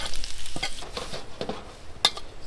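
Onions, broccoli and carrots fry in an oiled pan for campsite fried rice. Uneven crackling and sizzling carries a series of sharp pops, with one louder spike near the end.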